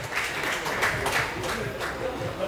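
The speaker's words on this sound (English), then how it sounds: "Round of applause as well." An audience at a discussion event on manhood claps in a round of applause. The clapping is moderate and even, with some faint crowd murmur underneath.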